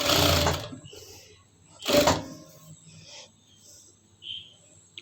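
A sewing machine stitches a child's frock in two short, loud bursts of rapid whirring, separated by quieter handling noises and faint clicks.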